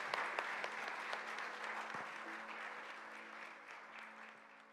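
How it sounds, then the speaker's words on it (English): A congregation at a hybrid church service gives a round of applause, with many hands clapping in a sustained, moderately distant patter that gradually thins, and no voices. "Let's give a round of applause to our history buffs."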